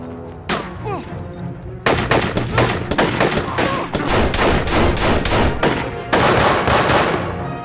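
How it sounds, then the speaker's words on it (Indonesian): Film gunfire exchange: rapid gunfire rattles in dense bursts, loud and close, with a short lull before a long sustained volley and another heavy burst near the end. "baku tembak antar mereka pun tidak bisa lagi terelakkan"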